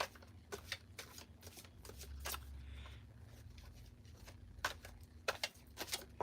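A small retro tarot deck is shuffled repeatedly at close range, with quiet riffling bursts and soft card slaps in an uneven rhythm against a faint background hum.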